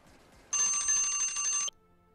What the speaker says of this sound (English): That disgusting noise that you all just heard is the timer